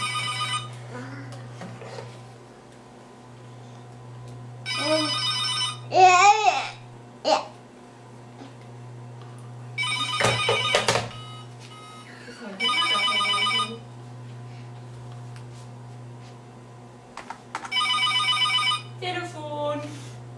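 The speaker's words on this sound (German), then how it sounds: "Wo ist das Telefon?" A telephone rings in repeated bursts in a home while a small child babbles and an adult speaks German between and over the rings.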